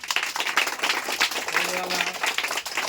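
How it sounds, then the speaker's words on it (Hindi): Applause for a child contestant at a village general-knowledge quiz: dense, loud clapping from a group, continuous and close, with a brief tonal hum partway through and voices mixed in. "जोरदार तालियां।"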